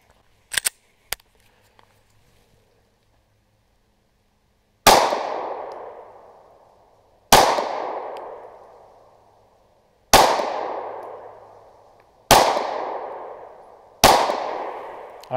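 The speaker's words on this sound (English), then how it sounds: "let's first shoot this" ZevTech Z320X Compact pistol firing at an outdoor range: five loud, sharp shots spaced a few seconds apart, each with a ringing decay, after a couple of faint clicks at the start.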